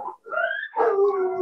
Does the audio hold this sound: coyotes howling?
yes